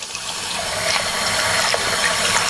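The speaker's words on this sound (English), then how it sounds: "Drain the water." Cloudy rinse water is poured off during repeated washing, a steady loud gushing rush that stays even throughout without speech.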